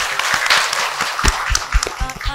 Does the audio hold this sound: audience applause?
yes